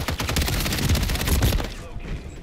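Rapid bursts of gunfire from a gun in Call of Duty Modern Warfare, loud and close, a dense fusillade of shots filling most of the moment before cutting off.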